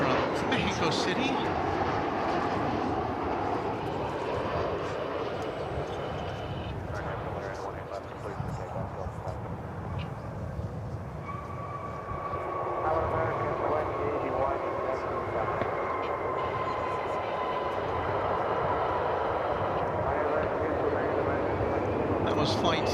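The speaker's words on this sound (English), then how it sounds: "Here comes an American flight from Mexico City." An American Airlines jet from Mexico City passes at DFW Airport, a steady broadband roar that swells and holds across the span, with voices talking over it.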